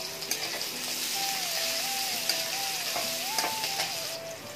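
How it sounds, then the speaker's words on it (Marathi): Finely chopped onion sautéing in hot oil with cumin seeds in a pan, a continuous close sizzle and hiss with occasional light clicks; no speech. "कांदा टाकून, कांदा आपल्याला छान परतून घ्यायचा"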